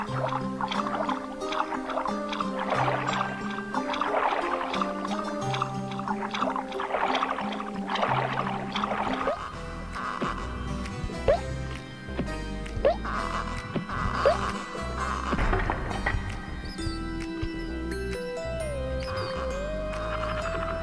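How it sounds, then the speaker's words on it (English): Soundtrack from the PlayStation platform game Croc: Legend of the Gobbos, a dense, continuous melodic piece with a steady bass line and layered instruments that shifts in texture partway through, loud and alone with no talk. "The music in the game, on the other hand, is incredible."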